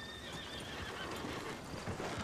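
A horse in a video game whinnies briefly over soft hoof clip-clops and game ambience, fairly quiet and close.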